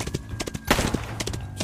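Horse hooves galloping in a steady clip-clop rhythm, fairly close and loud, with a sharp burst partway through and a few faint voices in the background.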